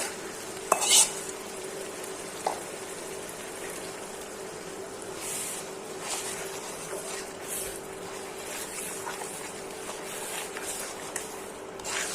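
Ground dried chepa fish stirred into sautéed spices in a pan, soft steady frying sizzle with scattered scrapes and taps of a utensil against the pan, fairly quiet and close, with no talking.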